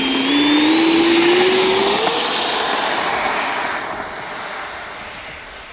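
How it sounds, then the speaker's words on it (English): A Freewing J-10 Vigorous Dragon 90mm electric ducted-fan RC jet flies past, a loud rising whine that climbs in pitch then settles into a steady high tone and fades as it moves away. "So let's get that jet up in the sky and see what else she can do."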